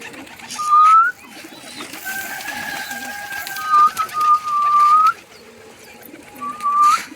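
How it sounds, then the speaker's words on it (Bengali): Pigeons gather at a bowl of feed in a home garden, giving several soft coos and whistling calls at intervals against quiet outdoor background. "সব কবুতর এখানে এসে বসছে।"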